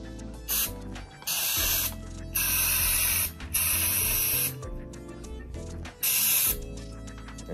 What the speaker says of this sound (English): So I'm gonna just spray inside the barrel.